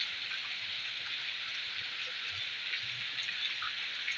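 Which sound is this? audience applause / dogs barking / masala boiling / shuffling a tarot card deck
masala boiling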